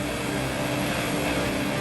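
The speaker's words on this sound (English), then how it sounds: "This is Donald Trump's private jet. A Boeing 757 that's a giant in its class." A Boeing 757 private jet at an airfield produces a steady, dense engine roar that fills the moment evenly at close range without pauses or voices.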